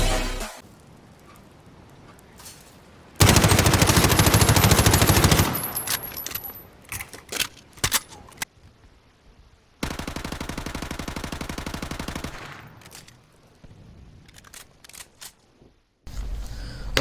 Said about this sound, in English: All I'm doing is hitting the trigger button to shoot